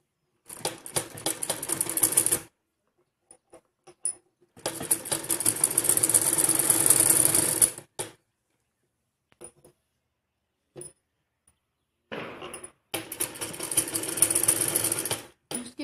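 Electric sewing machine stitching salwar fabric in three bursts of rapid, steady whirring and clatter, each a few seconds long, separated by near-silent pauses with faint handling clicks.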